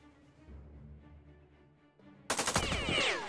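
Gunfire in the Jagged Alliance 2 video game breaks a quiet, low backdrop with a sudden loud burst of rapid shots that rattle on with echoing tails.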